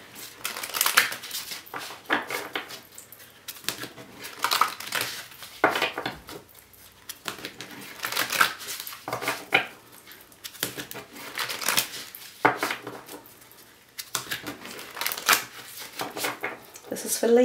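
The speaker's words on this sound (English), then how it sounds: "One more shuffle." Tarot cards are shuffled by hand in repeated crisp, riffling bursts with short pauses between them, close and fairly quiet, and a voice talks intermittently over the shuffling.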